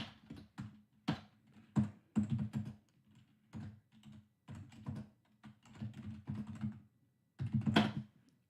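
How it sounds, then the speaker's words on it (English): Hard, forceful typing on a computer keyboard, close up: irregular bursts of sharp clacking keystrokes, with short pauses between flurries. "sorry, I'm like slamming the keys."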